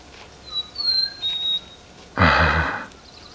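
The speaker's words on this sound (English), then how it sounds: "Little bitty bird making that sound." Small bird calling from a tree near the Palm Springs tramway, a few thin high chirps and whistles, fairly faint, followed by a louder burst of noise near the end.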